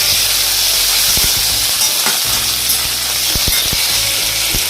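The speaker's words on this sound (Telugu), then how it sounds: "మరి ఇప్పుడు కొంచెం కరివేపాకు కూడా వేసుకుందాము" Curry leaves hit hot oil alongside lentils and a dried red chili for bitter gourd spice powder, giving a loud, close, hissing sizzle with a few sharp crackles and pops scattered through it.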